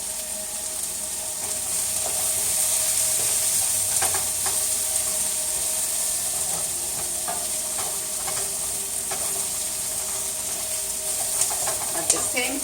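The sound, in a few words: sautéing vegetables in a hot pan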